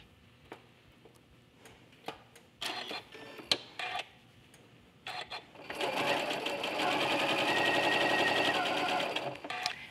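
First comes a series of sharp clicks and short bursts. Then a sewing machine runs steadily at close range, stitching across layered quilting fabric with a fast, even mechanical whir that lasts to the end.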